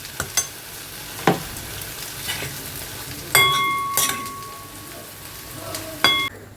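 Onion fritters frying in a pan of oil, a steady sizzle with a few clinks of a utensil and spoon against the pan, close and continuous.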